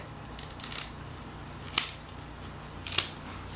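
Two crisp, separate snips as a monstera deliciosa aerial root is cut, each a sharp close click against a quiet background with a faint rustle of handling.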